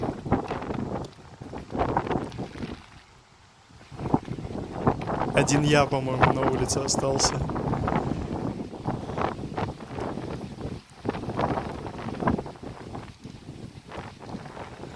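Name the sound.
strong wind during rain in a park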